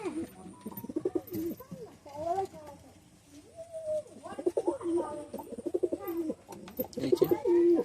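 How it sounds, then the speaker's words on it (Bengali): Male pigeons in a loft coo over and over in soft, throaty bursts, with nearby birds overlapping and someone speaking over them. "এই যে লফটের মধ্যে পায়রা সব"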